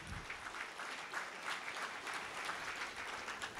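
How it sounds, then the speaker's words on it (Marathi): An audience applauds continuously at an award ceremony in Nashik, a dense even patter of many hands clapping, fairly faint and distant. "जोरदार टाळ्यांचा कडकडाट झाला पाहिजे"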